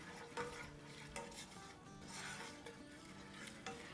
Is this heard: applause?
no